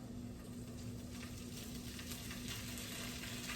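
Rice frying in oil in a pan, a steady close sizzle with faint stirring scrapes, continuous and fairly quiet, with no talking over it.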